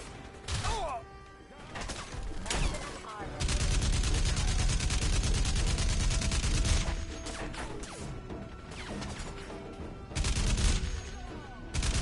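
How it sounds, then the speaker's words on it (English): Dense bursts of gunfire and crashing debris from the video game Crysis as rounds tear through a building and bring it down, loud rattling volleys alternating with heavy crumbling impacts. "You see how our bullets went straight through that building, made it collapse?"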